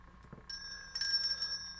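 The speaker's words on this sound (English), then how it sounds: "I drove quite some time to go get this squirrel bell" A small decorative squirrel bell is rung with a few light taps, and then a clear, sustained metallic ring holds steady up close.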